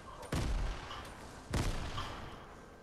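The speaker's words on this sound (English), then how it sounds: "They're shooting grenades to us." Two heavy, booming blasts of grenade launcher fire in a shooter video game, about a second apart, each trailing off into a rumbling decay over steady background noise.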